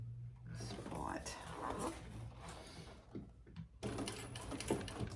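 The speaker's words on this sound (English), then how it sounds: "Actually, I'm gonna just backstitch." A sewing machine stitches and backstitches a large leather crossbody sling, its steady mechanical whirr running in bursts across the clip, pausing briefly before resuming, with a person talking quietly alongside.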